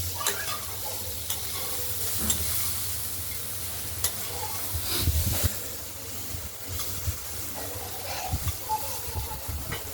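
Thin slices of pumpkin and bitter gourd fry in oil with a continuous close sizzle, broken by soft scraping and stirring thumps as they are turned. No voices are heard.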